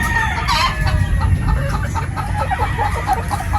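Gamefowl pullets of a 50-50 sweater cross, already laying eggs, cluck steadily at close range, with rooster crows mixed into a busy, continuous farmyard background.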